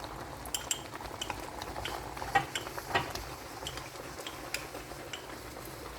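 A utensil stirs corn starch into coconut milk in a small dish, making soft scraping and clinking taps scattered irregularly over a quiet kitchen background.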